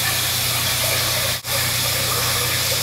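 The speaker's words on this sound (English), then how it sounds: "Fill the pot." Steady rushing hiss of running water pouring into a container, loud and continuous with a brief dip midway.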